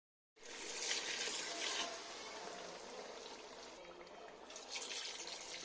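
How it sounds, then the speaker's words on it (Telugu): Water pours steadily into a pot of chicken curry seasoned with ginger-garlic paste and garam masala, a continuous rushing splash heard up close with no voices. "మునిగే వరకు వాటర్ పోసుకోవాలి."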